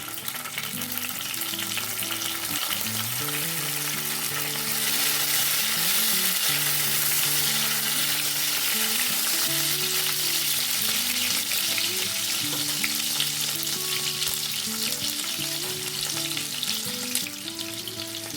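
Chopped raw tomato fries in hot tempered oil with spices, giving a steady, loud, close sizzle that runs without a break for the whole stretch, with faint stirring underneath.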